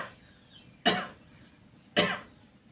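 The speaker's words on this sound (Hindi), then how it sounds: "दूसरा सिस्टम है जिसे हम खांसते हैं" Two short, sharp coughs made deliberately with the mouth closed as a breathing exercise in yoga practice, spaced about a second apart, close and clear against a quiet background.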